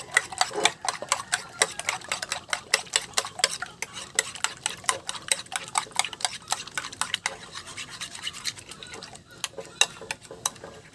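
Chicken strips being stirred with pepper, seasoning and salt in a bowl, a steady run of close, quick scraping and clicking strokes with no one talking.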